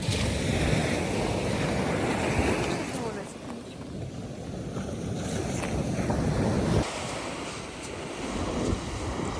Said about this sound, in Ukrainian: встанемо на фоні моря